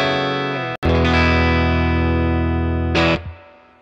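A guitar plays a clean tone through a Milkman Sound Half Pint 5-watt amplifier at full power with reverb: a single sustained chord rings out loud after a brief cut, then a short accent and a fading tail.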